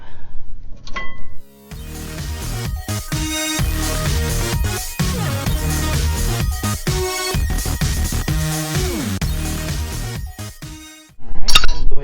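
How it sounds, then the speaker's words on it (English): Old brake pads are worked off the rear brakes of a 2003 Ram 2500, with loud, close metallic clinks, scrapes and rattles in irregular bursts between brief pauses. "go ahead and get the old brake pads off"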